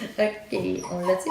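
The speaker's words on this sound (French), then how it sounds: "Ça, c'est notre chien." A household dog whimpers close by in short, high, wavering whines and yips, mixed with a person speaking French indoors during a craft session.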